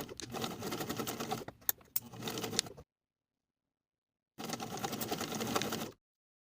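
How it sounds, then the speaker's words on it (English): Sewing machine stitching the bottom edge of a placket with a 5/8 inch seam allowance, a fast whirring run that pauses briefly with a couple of clicks, resumes, then stops for silence before a second steady burst. "I'm going to sew this bottom edge again from the seam to the outer edge of the placket with a 5/8 inch seam"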